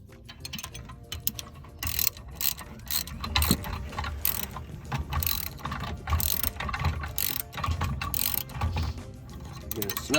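A ratchet with a 7/32 Allen drive clicks in quick bursts while tightening the bolts of a B&W Companion 5th wheel trailer hitch, close and crisp, with short pauses between runs.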